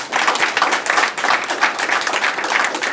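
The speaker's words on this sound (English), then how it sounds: "Could you please give a big round of applause?" An audience gives the instructors a round of applause at an Interpol immigration and border management training event, a dense, sustained burst of clapping filling the room for the whole moment.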